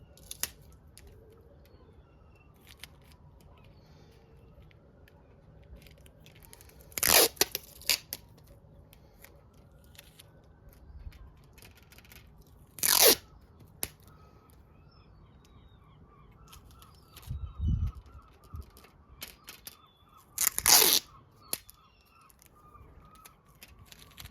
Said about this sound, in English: I'm just going to tape the staves so that they stay open